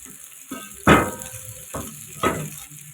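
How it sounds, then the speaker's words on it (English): Small omena sardines dry frying in a pan with no oil, a steady close sizzle broken by two louder bursts of stirring and scraping, no talk. "So I'll let them fry"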